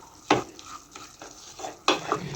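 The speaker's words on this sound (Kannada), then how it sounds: "ಈ ಥರ ಸ್ಪೂನ್ನಲ್ಲೇ ನಾನು ಸುಮ್ಮನೆ ಒಂದು ಸ್ವಲ್ಪ ಈ ಥರ ಮ್ಯಾಶ್ ಮಾಡ್ಕೋತಾ ಇದ್ದೀನಿ" A spoon mashing cooked vegetables in a pan for poori saagu; soft scraping and dull knocks, with two sharper clatters against the pan amid quiet stirring, close and faint.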